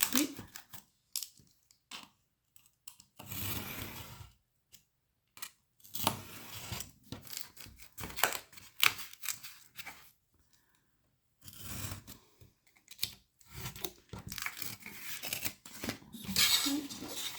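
Scissors snip through paper for a scrapbooking mail organizer in quick, close bursts of cutting, with pauses between and some faint handling noise.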